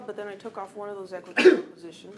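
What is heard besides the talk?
sneeze in classroom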